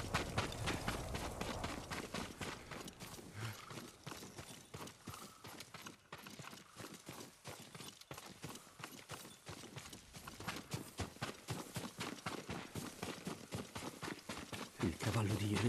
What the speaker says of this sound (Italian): Il cavallo di Enrico è qui vicino